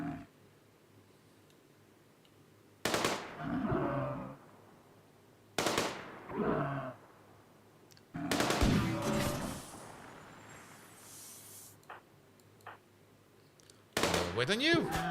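Video game gunfire during a bison hunt: four loud, sharp bursts of shots a few seconds apart, each with a rumbling tail, set against a quiet background, with someone talking in between.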